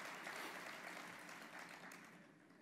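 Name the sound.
audience applauding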